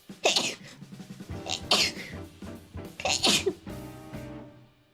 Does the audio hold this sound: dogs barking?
no